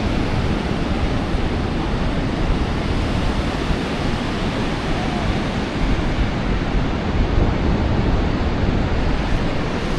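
Rough ocean surf at Cannon Beach roars in a dense, loud, unbroken wash of noise, with wind buffeting the microphone and no voices.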